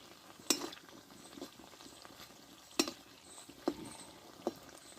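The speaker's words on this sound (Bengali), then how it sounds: "মিষ্টিগুলো আমি খুব লাল করে ভাজবো না" Semolina sweets fry in oil with a faint, steady sizzle, punctuated by a few sharp clinks of a utensil against the pan at irregular intervals.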